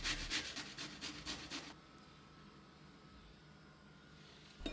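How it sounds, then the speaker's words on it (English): Peeled plantain scraped against the medium side of a box grater in a series of quick, rhythmic rasping strokes, close and fairly soft, then stopping, leaving quiet room tone. "I'm grating it on the medium side of the box grater"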